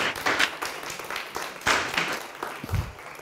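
A student inter-list debate audience applauds, scattered claps with individual louder hits rising and falling over a few seconds, moderately near and fairly faint.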